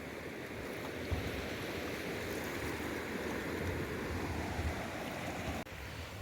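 Water flowing at Triveni Sangam, a continuous broad rushing wash, fairly soft and steady throughout with no voices.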